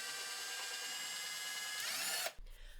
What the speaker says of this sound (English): I'm going to go easy on me and drill some pilot holes